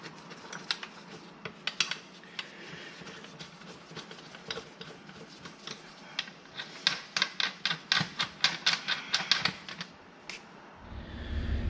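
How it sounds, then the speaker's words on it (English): A torque wrench tightens cylinder head bolts on an 08 International Maxxforce DT engine. Quiet ratcheting clicks come in uneven runs, then a faster, louder sequence of crisp clicks near the end. "these bolts get torqued to 23 foot-pounds"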